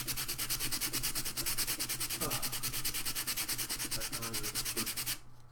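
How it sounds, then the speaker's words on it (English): Fast, rhythmic hand sanding on a craft project makes a steady scratchy rasp, with even back-and-forth strokes close by that stop abruptly at the end. "I need to sand a lot faster than I'm sanding right now."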